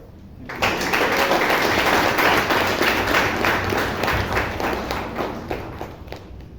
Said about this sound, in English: Please, with a thunderous round of applause